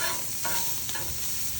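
Meat frying on a Blackstone griddle for fried rice: a steady, close hiss and sizzle with a couple of faint scraping stirs and no voices.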